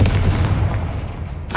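Confringo blast spell cast in Hogwarts Legacy: one loud, booming, fiery explosion that rumbles and fades over about a second, with a brief crackle at the end.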